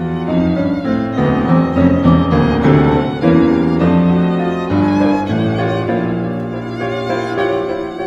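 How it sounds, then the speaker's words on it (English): Shostakovich's Galina's theme played in its original piano trio version, with piano, violin and cello moving through a slow, sustained melodic phrase that stays full and continuous throughout. "In its original piano trio version, it sounds like this."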